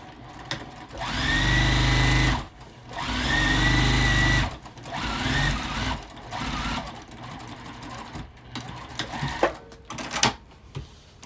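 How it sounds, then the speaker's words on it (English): A sewing machine top-stitches across a quilted bag pocket in several bursts of rapid, loud mechanical whirring, each a few seconds long, followed by softer handling clicks and rustles. "I'm going to sew across the top of the pocket to give it a nice top stitch"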